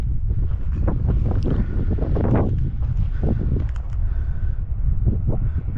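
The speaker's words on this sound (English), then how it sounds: "Windy, windy, windy." Strong wind buffets the microphone across an open reservoir site being finished with Caterpillar D8 dozers, a steady loud roar with heavy gusting rumble throughout and no talk.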